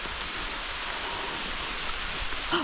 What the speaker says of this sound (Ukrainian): дощ поливає